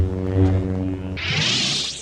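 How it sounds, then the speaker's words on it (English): A modern Star Wars lightsaber gives a steady, layered electric hum that suddenly flares into a bright crackling buzz partway through, loud and alone with no talking. "nothing really compares to the sound and feel of a modern lightsaber"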